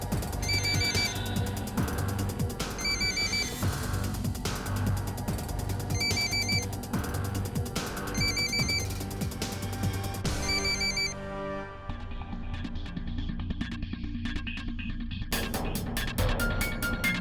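A telephone rings on and on with no one picking up, its repeated bursts of ringing arriving in a steady pattern over a continuous background of music or ambience before the ringing breaks off.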